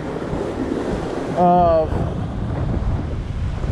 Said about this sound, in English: the wind is coming out over there from my left, and the wind is coming out from my right, and I'm just getting hit from both sides